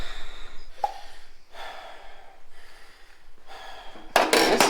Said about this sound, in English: I got heavy breathing going. I'm breathing hard.